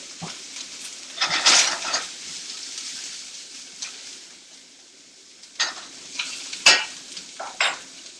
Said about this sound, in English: Want to stir these around a lot. They're going to cook. The onions should cook pretty quickly.